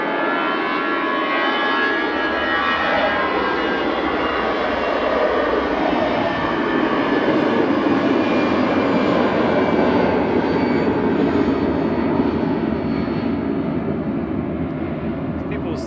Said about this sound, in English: EC La departing back to Madrid with flight 1892.